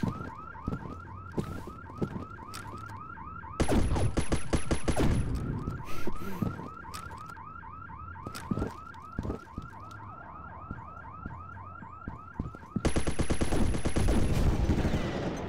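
An alarm blares inside a bank in a first-person shooter game, a repeating rising electronic wail heard close and loud, interrupted by bursts of rapid gunfire, with no talking.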